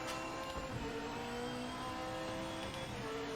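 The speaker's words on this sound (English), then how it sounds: "Here comes the Porsche again." A Porsche race car engine in the Project Motor Racing game drones steadily with a whining, tonal note, held at a near-constant pitch and quiet level throughout without talk.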